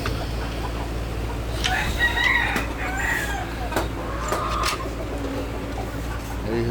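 A rooster crows loudly over clucking Fayoumi and local chickens on a farm, with steady background hum and a few sharp clicks.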